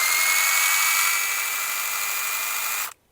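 Procraft PKA16 or Dnipro-M CS-12 cordless battery mini chainsaw, freshly oiled, spinning up to a high steady whine for nearly three seconds before cutting off abruptly into silence.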